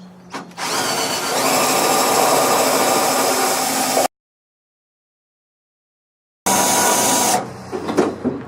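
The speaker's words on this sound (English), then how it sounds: "That is one blunt drill." A blunt drill bit bores holes into a car boot panel during a restoration, whining steadily for several seconds, stopping, then starting again briefly with loud, close grinding.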